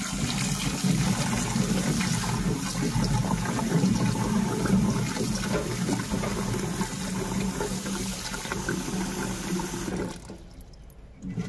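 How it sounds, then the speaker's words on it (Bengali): Taro pieces washed under running water, a steady splashing, gurgling flow that continues for several seconds before cutting off near the end, close and moderately quiet. "এবারে আমরা কচুগুলিকে ভালো মতো ধুয়ে নেব।"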